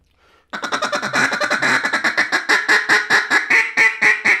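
A duck call blown to imitate a hen mallard squeal gives a fast, loud, close run of sharp repeated quacks, about twenty in a steady rhythm, with nothing else heard.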